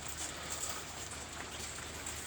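Steady rain falls outside, a soft even hiss of drops that runs without a break, fairly quiet and heard alone.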